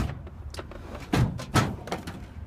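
A toolbox drawer slides open with a couple of sharp knocks and rattles amid quieter handling clatter, close by in a garage during a Ferrari 456M service.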